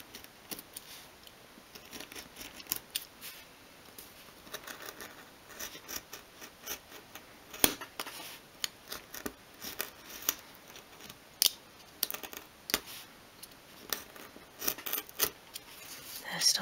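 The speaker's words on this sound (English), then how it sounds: "It's better to do a lot of light scores than try and cut through first time" A craft knife scores and cuts through thin wood while building a 1/12 scale miniature bed, giving many light, scratchy strokes and small sharp clicks in an irregular rhythm, close and fairly quiet.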